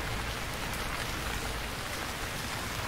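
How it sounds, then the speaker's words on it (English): Heavy rain pours down in the survival video game Stranded Deep, a loud, dense and unbroken hiss filling the whole stretch with no voices over it. "the rain is so loud"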